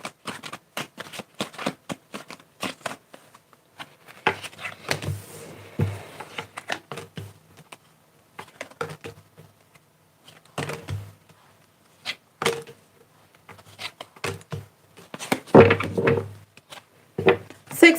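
Tarot cards are shuffled by hand at close range, giving repeated soft riffles and papery slides with occasional dull thumps as the deck is squared on a surface.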